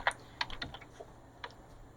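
Several computer keyboard keys are pressed in quick, light clicks, a cluster of taps followed by a pause and a couple more, quiet and close, with no talking.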